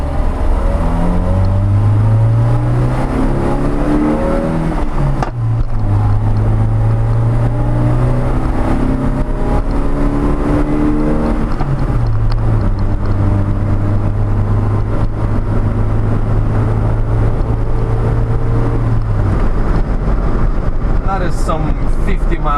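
A 1985 Toyota LiteAce CM21 truck with a 1300cc 4K-J engine pulls in second gear: a loud, close engine drone rising steadily in pitch, easing off with a shift, then climbing again, with someone talking over it.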